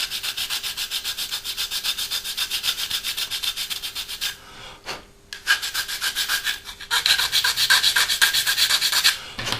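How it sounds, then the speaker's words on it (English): Hand sanding of a Hasegawa 1/48 F/A-18F plastic model kit part: close, rhythmic back-and-forth scratchy strokes, steady and loud, pausing briefly midway before resuming faster. "sand off a little more"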